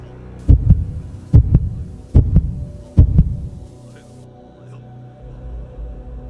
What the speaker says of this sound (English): all he could hear was his own heart pounding